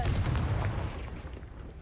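A Confringo fire spell blast in Hogwarts Legacy bursts out with a loud, booming crack that holds heavy and full for nearly a second, then rumbles away into a fading tail.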